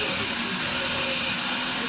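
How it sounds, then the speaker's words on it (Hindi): A Westpoint WF-1858 jumbo food factory shredding carrots makes a loud, steady motor whir with a constant hissing grind and faint tonal hum, unbroken from start to finish. "तो गाजरों के जो छोटे पीस ऊपर घूम रहे होते हैं वो भी श्रेड होकर नीचे चले जाते हैं आसानी के साथ"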